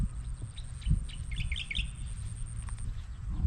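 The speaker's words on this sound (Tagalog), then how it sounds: "Masigla na ulit mga ibon" A brief cluster of high chirps from birds sounds faintly at middle distance over a low rumbling background, with a few scattered calls before and after.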